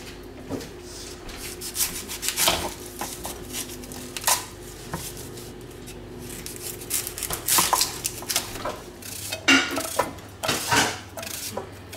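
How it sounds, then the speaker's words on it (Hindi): A medium to large onion is cut by knife for an Indian vegetarian dawat dish, giving a steady, close rasping scrape with scattered sharper knocks over roughly twelve seconds and no talk. "तो अब प्याज काटते हैं।"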